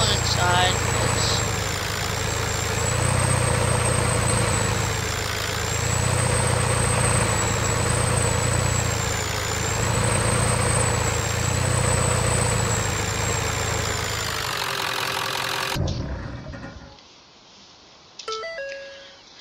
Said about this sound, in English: now these gasser trucks, they actually sound really good.